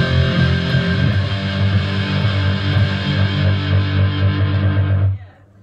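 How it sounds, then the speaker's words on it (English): A loud, sustained distorted tone drenched in heavy reverb at a live performance, thick and droning with a cathedral-like wash that cuts off abruptly near the end, leaving a faint tail. "turning the reverb up to insane now."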